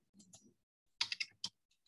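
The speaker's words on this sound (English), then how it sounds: "So I'm just manually typing in the scores" Computer keyboard keys tapped while scores are entered by hand: a soft patter of presses, then a louder burst of several quick clicks and one more sharp keystroke, close and alone with no talk.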